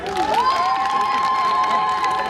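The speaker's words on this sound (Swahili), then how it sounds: "Makofi mengi kwake." A crowd at a Tanzanian CCM political gathering for parliamentary candidate Dr. Bunungu in Peramiho cheers and shouts continuously, a loud sustained roar of voices with some applause.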